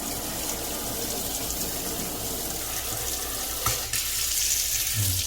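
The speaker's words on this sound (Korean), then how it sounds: "또 물은 잘 나오는지." Water running steadily from a tap in an apartment, a loud, continuous gushing rush with one brief clunk near the end.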